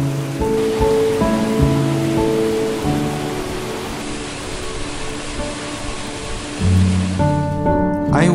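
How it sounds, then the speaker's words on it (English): Running mountain streams rush through a forest in the High Tatras as a steady broadband wash of water, with sustained musical tones playing over it throughout. "I stopped several times to listen to the sound of the running streams"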